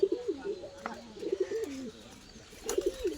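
Tikla pigeon cooing nearby, several low throaty warbled coos in short bursts with pauses between, a faint voice in the background.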